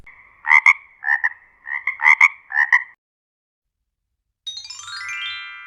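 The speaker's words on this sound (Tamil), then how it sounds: "தவளை frog." A frog croaks in five close, rhythmic bursts, loud and near, then falls silent before a sparkling chime rings out.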